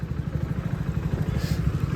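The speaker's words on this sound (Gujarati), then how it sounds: "રિક્ષા નહીં લઈને આવ્યો, બાઈક જ છે." A motorcycle engine idles close by in a quiet, rapid, even putter that holds steady throughout.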